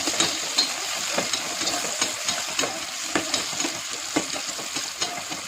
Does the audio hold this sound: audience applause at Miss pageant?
no